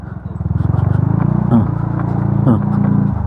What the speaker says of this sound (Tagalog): Alog ng alog yung motor.